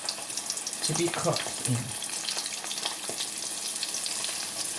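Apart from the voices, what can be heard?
pollock fish in almond flour frying in hot pan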